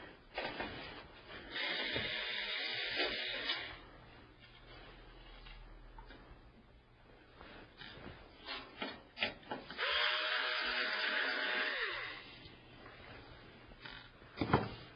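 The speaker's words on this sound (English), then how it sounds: "use my electric screwdriver and take these screws off." An electric screwdriver backs screws out of a computer chassis during a motherboard installation, with two short whirring motor bursts separated by a pause, fairly quiet and close, with light handling noises between.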